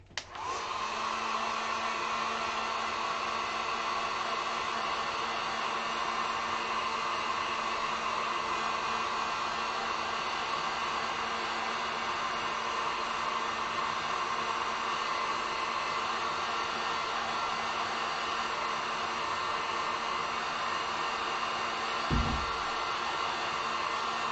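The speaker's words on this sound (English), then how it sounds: "Hurry and hit the heat gun real quick." A heat gun dries acrylic paint on a shamrock and horseshoe sign. It gives a steady, loud blowing whir that runs without a break for over twenty seconds, with a faint knock near the end.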